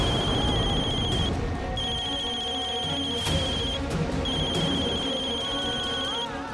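A telephone rings in repeated electronic bursts with short pauses between them, steady and fairly loud, over a faint murmur of background noise.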